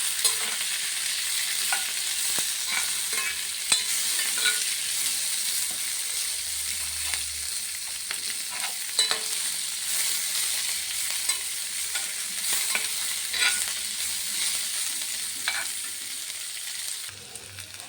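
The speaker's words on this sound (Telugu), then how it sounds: "ఇప్పుడు అందులోనే 1 కప్పు ఉల్లిపాయలు. ఇవన్నీ బాగా ఫ్రై చేసుకోవాలి." A cup of onions with cumin seeds fries in a pan, a loud continuous sizzle with stirring scrapes scattered throughout, steady and close with no talking.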